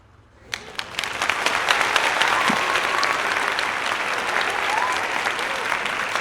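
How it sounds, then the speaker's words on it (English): An audience breaks into applause after a Super Decathlon aerobatic airplane lands. A few first claps quickly swell into dense, steady clapping that holds loud and continuous to the end. "That deserves a big clap from the audience."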